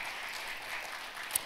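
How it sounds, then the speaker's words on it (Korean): Conference audience at a finance conference session applauds the incoming panel moderator, a soft, even wash of clapping heard from a distance, steady for the whole moment without voices. "먼저 박수 부탁드립니다."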